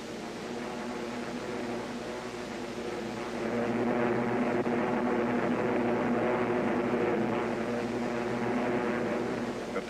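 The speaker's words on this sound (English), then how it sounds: "The first wave of Japanese planes attacks the American Air Corps to prevent a counterattack." A formation of Japanese warplanes flying in to attack Pearl Harbor, heard as a continuous droning propeller-engine roar that swells a little louder partway through and then holds steady.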